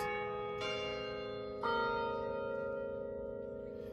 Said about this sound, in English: There's your magic bell, good timing.